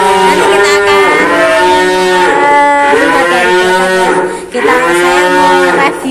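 Jumbo Simmental cattle in a pen low with long, loud moos, several calls following one another closely and close by, with no other sounds over them.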